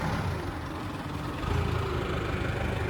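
A 2017 Holden Barina's 1.6-litre four-cylinder F16 D4 petrol engine idles with a steady, low, even hum and no voices over it.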